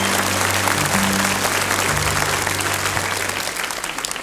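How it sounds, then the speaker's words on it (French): Studio audience at a 1988 French TV children's talent show applauds a five-year-old contestant, a dense, loud burst of clapping that holds steady and then slowly fades. "On applaudit Gaëtan."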